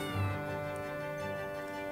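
A cat meows in the video game Tales of Arise, a short, moderately loud call near the start over steady tonal game music.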